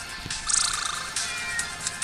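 Cartoonish cat meowing in the mobile game PK XD, one loud close, drawn-out wavering meow followed by short faint chirps over a steady background.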